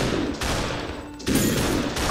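Gunfire aimed at the player in the SuperHot video game, loud close bursts of rapid shots, with a brief lull in the middle before shooting resumes.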